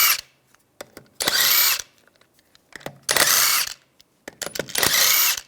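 A power tool fitted with a 17mm socket removes the lug nuts from the wheel of a BMW 352Xi in three loud, close whirring bursts of about a second each. Short clanks and ratcheting clicks come between the bursts.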